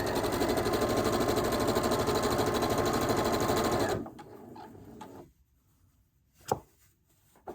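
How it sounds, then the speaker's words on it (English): A sewing machine stitches long quilt blocks in a loud, steady, rapid whir for about four seconds, then stops, leaving quiet handling noise and a couple of brief knocks. "Doing pretty good with this whole one-handed sewing thing"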